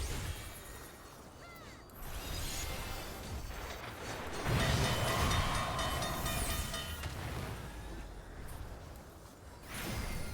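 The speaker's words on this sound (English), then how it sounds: "Sage is going to get run over by the train." A train rushes by in the Final Fantasy XIV video game, a loud continuous rumble and rail clatter with a sharp surge near the middle as it sweeps past, heard alone without talk.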